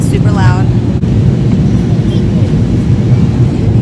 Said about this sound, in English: So we're in the air now, it's super loud.